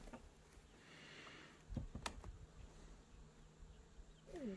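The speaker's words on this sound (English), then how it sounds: "Nice healthy bee, hi." A bee buzzes at a beehive on a warm winter day, a faint steady hum with a brief passing drone, alongside soft outdoor handling noises.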